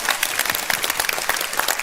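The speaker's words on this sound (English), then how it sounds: "applause there, yes? People support that?" A crowd at a Reform UK political rally in Aberdeen bursts into applause, a short, dense burst of many hands clapping close and loud.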